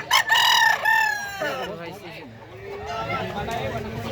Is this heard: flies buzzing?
no